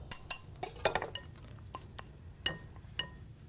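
Eggs are mixed in a bowl, a utensil clinking against the side in scattered taps and light rattles, fairly close and quiet.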